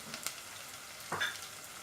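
Green chillies frying in a pan give a low, steady sizzle, with a brief louder scrape of stirring near the middle and a faint clink early on.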